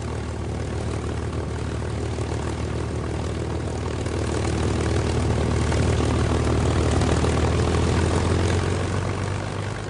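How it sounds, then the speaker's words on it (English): A North American P-51 Mustang propeller fighter drones overhead with a steady, loud engine roar and airscrew hum that swells slightly midway, with no voices. "The planes he was referring to were Mustangs."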